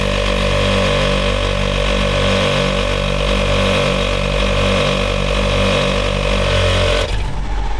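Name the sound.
ARB pressure control module pumping up a tire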